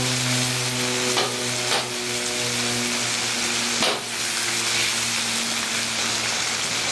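Cubes browning in bacon grease on a Blackstone griddle with the middle heat turned up, a steady close sizzle and crackle with a few sharp pops and scrapes, no talking.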